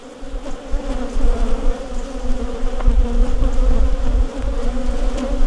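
Honeybees buzz around an open hive in a farm yard, making a close, continuous droning hum that swells and fades slightly, with no talk.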